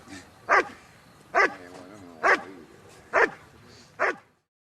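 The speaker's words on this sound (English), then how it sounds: "his job is just to bark at the helper and not bite him" A dog barking at a helper hidden in a blind during Schutzhund training, five loud evenly spaced barks about a second apart, close by, with no talk.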